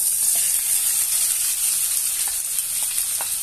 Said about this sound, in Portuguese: Agora nós vamos fritar essa linguiça junto com o bacon e junto com o alho.